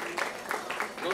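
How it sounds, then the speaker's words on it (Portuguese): An open-air audience in a town square applauds a performer at a band's concert, a brief, fairly distant patter of many hands under a voice speaking. "Palmas pra ela."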